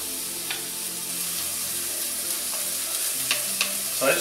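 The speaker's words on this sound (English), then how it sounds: "So I just want to get these shallots just to start to kind of soften up a little bit." Shallots frying in a pan for a prime rib dinner, a quiet steady sizzle with a few faint clicks and stirring sounds, no talking.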